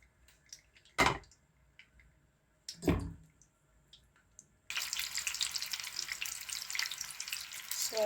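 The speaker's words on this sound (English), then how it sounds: "So now I'm going to fry my meatballs." Meatballs frying in hot oil for spaghetti, starting with a couple of sharp clunks and handling sounds before a steady, loud sizzle takes over and continues to the end.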